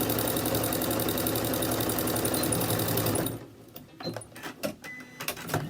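A sewing machine runs steadily and loudly for about three seconds while stitching a small fabric mask ear saver, then stops, leaving quiet handling clicks and rustles.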